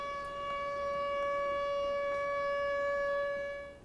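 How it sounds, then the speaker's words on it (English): A civil-defense-style siren from the film The Mist holds one steady, rich wailing tone for several seconds and fades slightly at the end, heard alone over faint background noise. "What is this siren for?"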